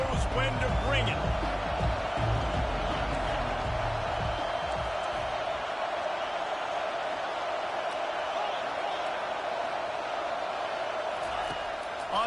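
Stadium crowd in the College Football 25 video game, Kentucky versus Tennessee, a steady broad roar of fans sustained for several seconds with heavier low rumble early on, beneath a play-by-play voice.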